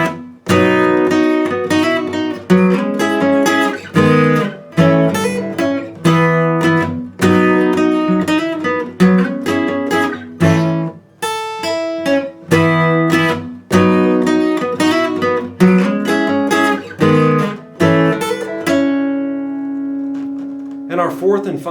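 Guitar plays the second verse of a song in three parts, with steady strummed chords and picked riffs filling about twenty seconds, loud and close, and a held chord ringing out at the end.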